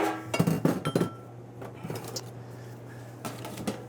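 Fiesta ware dishes clink and clatter in a restaurant kitchen, a quick cluster of sharp ceramic knocks at the start followed by scattered lighter taps over a steady low hum.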